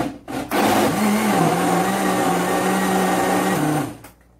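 Blender whirring through a homemade chicken mortadella mixture, a loud close motor drone of about three and a half seconds with a slight pitch dip as it runs, then stopping.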